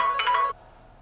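A mobile phone ringtone sounds for an incoming call, a bright melodic ring of about half a second, loud and close, cutting off abruptly and leaving quiet room tone.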